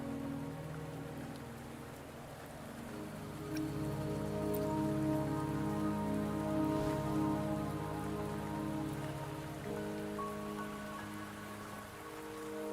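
Steady rain falls across a mountain path in the game Wuthering Waves, a continuous hiss of drops on surfaces with a soft layered ambient hum beneath, no voices.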